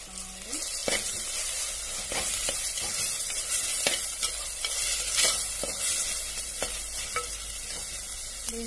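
Onions sizzle and fry in a pan for village-style semiya egg biryani, a constant crackling hiss broken by repeated scraping stirs, close and alone without talk.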